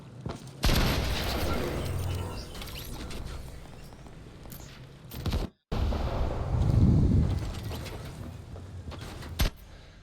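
Rapid gunfire bursts crackle in a Fortnite match, loud volleys hitting a built wall, broken by a brief silent gap, then more shooting and a final sharp shot.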